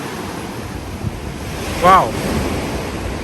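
Sea surf churns and washes beneath the Sydney Opera House, a steady broad rush with wind buffeting the microphone, while a voice gives a brief excited exclamation partway through.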